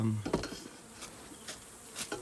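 Honeybees from a freshly hived swarm buzz around the front of the hive, a soft continuous hum with individual bees droning past close by at intervals.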